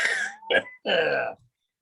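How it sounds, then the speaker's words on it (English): A person clears their throat with two or three gruff, voiced rasps in quick succession, close up, then falls silent. "Clear your throat"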